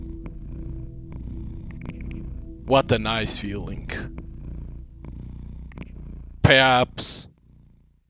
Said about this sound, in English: What's that noise you are making? It's the purr.